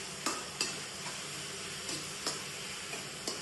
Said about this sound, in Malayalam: അപ്പൊ നമ്മള് ചട്ടി വെച്ചു, അതിൽ എണ്ണ ഒഴിച്ച് എന്നിട്ട് നമ്മള് കട്ട് ചെയ്ത എല്ലാതും